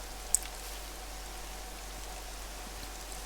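Rain falls in the video game Scum as a faint, steady patter and hiss throughout, with one brief sharper tick early on.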